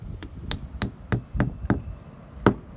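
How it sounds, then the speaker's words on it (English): Rawl Plugs are tapped into a masonry wall with a hammer, giving seven sharp, fairly evenly spaced knocks at close range with short pauses between them. "hammer the Rawl Plug in"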